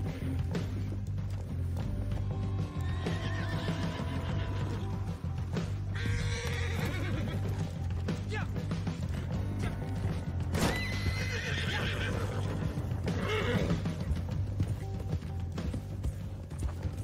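Horses in Red Dead Redemption 2 whinny loudly several times over a steady bed of clip-clopping hooves and game ambience, with neighs rising clearly around the middle and later stretches.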